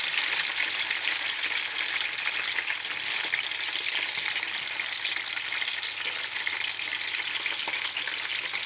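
Onion and green chilli frying in oil in a pan, a loud, dense, continuous sizzle that stays even and close throughout with no voices.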